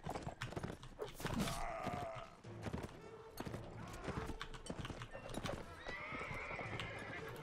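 Horse whinnies and clip-clopping hooves from the game Mount & Blade: Warband, repeated neighs over steady hoofbeats, fairly close, with a voice talking over parts of it.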